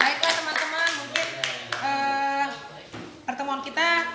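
Classroom audience applauding two student presenters during an Indonesian language lesson, a brief patter of claps under steady speech, fairly close and moderately loud.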